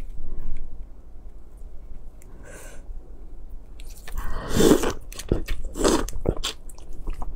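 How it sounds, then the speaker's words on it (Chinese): Someone bites into a large red shrimp head close to the mic, with quiet pauses followed by loud, wet crunches and squishy chewing sounds near the end. "先吃这个虾脑"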